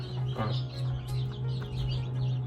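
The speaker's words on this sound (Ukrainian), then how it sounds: "в мене ще вон курчатка маленькі тут вже бігають" Small chicks in a brooder among several running incubators give soft, steady peeping and chirping over a constant low electrical hum throughout.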